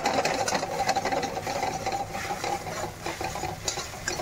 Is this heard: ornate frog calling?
no